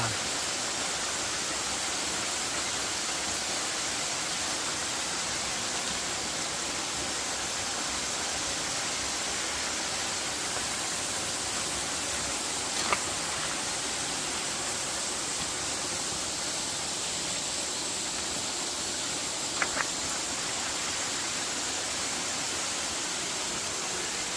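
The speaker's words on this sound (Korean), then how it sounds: "독특한 모양새로 어, 많은 사람들의 사랑을 받고 있는 주황산 제2폭포 절구폭포입니다." Jeolgu Falls, the second waterfall in Juwangsan National Park, produces a steady broadband rush of falling water, constant and enveloping with no breaks, heard alone apart from a couple of faint brief clicks.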